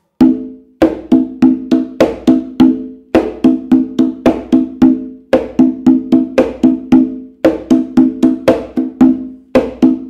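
A bomba drum is played by hand alone in a repeating pattern of open tones and sharp slaps. The crisp strokes fall in evenly spaced groups and ring clearly up close.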